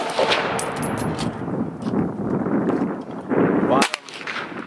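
An AR-15 rifle fires at a shooting range, producing loud, booming gunshots that roll into one another, with a sharp, close crack near the end before things quiet down.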